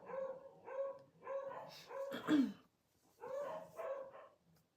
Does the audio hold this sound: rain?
no